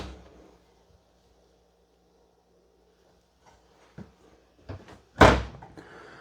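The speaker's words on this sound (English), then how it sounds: "these here are full extending ball bearing drawer guided drawers. And they do have that little soft close touch to them." A full-extension ball bearing drawer with soft close in a 2024 Forest River Salem Villa 40RLB destination trailer slides shut with faint rolling, then a few soft knocks and one firmer closing thump near the end.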